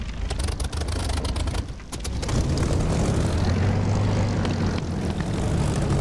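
A propeller aircraft engine in the DCS flight simulator game throttles up, building into a steady, loud, continuous drone that grows fuller partway through. No one speaks over it.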